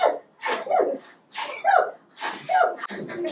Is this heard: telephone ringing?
no